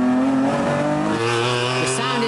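A TVR sports car engine howls as it accelerates hard, a loud, continuous rising roar that fills the whole moment.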